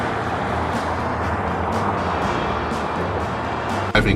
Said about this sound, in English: Driving this road back from Estes Park back to Denver